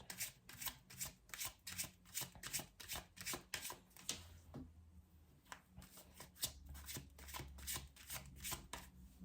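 Tarot cards are shuffled close up in quick, rhythmic riffling bursts with a brief pause midway, crisp papery flicks repeating steadily without any voice.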